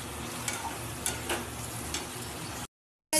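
Eggs fry in hot oil with chilli and spices in a pan, giving a steady near sizzle with a few stirring scrapes before cutting briefly to silence, with no talking.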